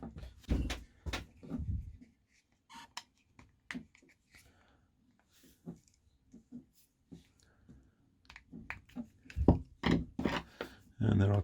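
A flathead screwdriver prising open plastic clips on an electric lawnmower cover, giving irregular close plastic clicks, snaps and knocks scattered among stretches of talking.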